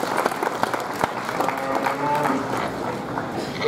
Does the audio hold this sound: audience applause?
yes